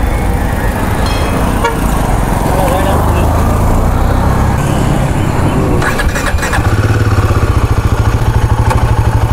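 A Royal Enfield Himalayan 450 motorcycle starts up close by and settles into a loud, rhythmic single-cylinder idle that thumps steadily through the second half, with traffic noise around it.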